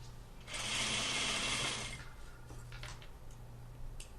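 A sewing machine back stitches along a sleeve placket in one quick burst of about a second and a half, a bright mechanical whir that stops and leaves faint handling clicks and a low hum.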